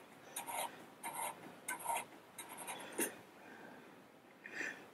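A metal ER32 collet rubbed inside the taper of a lathe-made ER32 collet holder, giving repeated short scraping strokes in an uneven rhythm, close and fairly quiet, with no talk over it.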